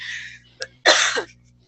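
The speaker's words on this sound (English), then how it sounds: "I'm trying to clear my throat and I don't want to cough in the thing" A close, harsh throat-clearing rasp with a brief hiss before it, then silence.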